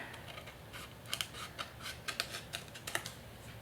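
Scissors trim paper for a scrapbook page, a series of close, crisp snips arriving in irregular clusters over a quiet room.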